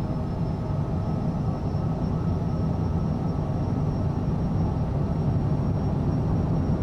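Airplane engine droning steadily as it begins a takeoff roll from Paderborn in Microsoft Flight Simulator 2020, a continuous loud broadband rumble with no talk over it.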